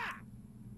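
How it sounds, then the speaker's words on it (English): A crow gives a single short, harsh caw right at the start, then fades into a low, quiet background hum. "These damn crows"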